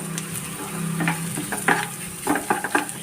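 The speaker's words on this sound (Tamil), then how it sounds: "இதை நல்லா வதக்கிடுவோம் எண்ணெயிலேயே வந்து இந்த கட்டித்தன்மை போயிட்டு நல்லா பொழு பொழுன்னு வரும்" Ground lentil paste sautés in oil for Tamil kothavarangai paruppu usili, a soft sizzle broken by several sharp scrapes and stirring clatters of a spoon against the pan, close by with no talking.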